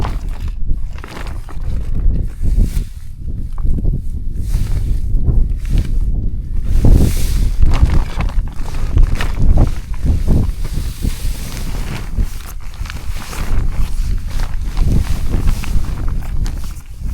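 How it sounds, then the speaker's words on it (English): Strong gusting wind outdoors in the cold of Alaska at minus thirty-five, buffeting loudly with a continuous low roar and uneven surges, heavy at times as if hitting the microphone, with possible footsteps crunching beneath. "Oh man, this wind!"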